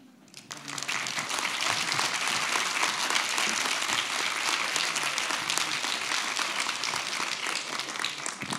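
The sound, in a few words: audience applause after a presentation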